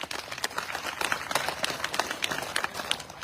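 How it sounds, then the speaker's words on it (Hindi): Applause from a crowd at a Jat community gathering over reservation demands, a dense, steady wash of many hands clapping that stays loud and continuous throughout with no talk. "जोर से ताली बजाओ भाई।"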